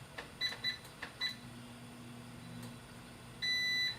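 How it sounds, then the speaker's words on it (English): Several short, high electronic beeps from a kitchen appliance, spaced unevenly at first, then a longer steady beep tone near the end, over faint background hum. "is that this that's beeping?"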